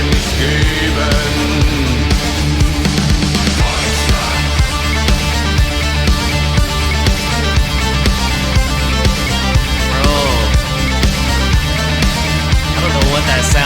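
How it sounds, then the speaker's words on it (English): Loud, dense rock track with driving drums and bass and bright synthesizer keys layered throughout the full mix. "Keys, synthesized keys or something?"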